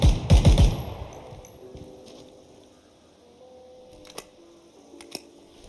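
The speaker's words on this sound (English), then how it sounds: "The gunshots and just like aiming and firing is very responsive" Ground Branch tactical shooter: a quick burst of loud, snappy gunfire up front, then a quieter stretch broken by a couple of sharp clicks.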